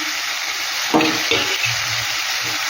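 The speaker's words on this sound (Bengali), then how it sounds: "এবার মাছগুলো আর আলু বেগুনটা আমি দিয়ে দিচ্ছি" Fish pieces, potato and eggplant going into well-cooked frying masala for a fish jhal, a burst of sizzling splatter followed by a softer crackle and low clatter over a constant hiss, close up.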